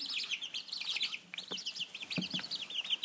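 Chickens, including a gray Splash Silkie, cluck and chirp nearby in quick, uneven bursts, with soft chattering calls overlapping throughout, over shaved-paper bedding.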